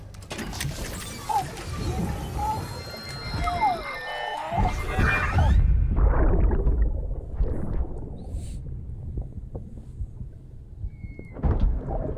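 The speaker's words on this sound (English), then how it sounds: "I got caught in the rain." Rumbling thunder and rain in the video game Death Stranding, with a heavy low roll building and fading over several seconds, mixed with crashing, clattering game effects, then a quieter stretch and a final rumble.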